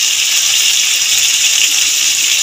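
Spiced water poured into a curry masala for raw banana kofta, a steady close rushing gush that fills the short stretch without any break.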